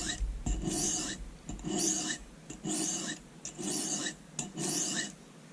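A paring knife is stroked on a sharpening stone to push the burr to the other side, giving five rhythmic, close, gritty rasping passes evenly spaced with brief gaps, with no voices.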